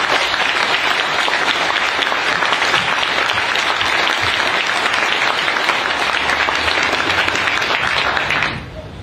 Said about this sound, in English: So how about a big round of applause for those Marines?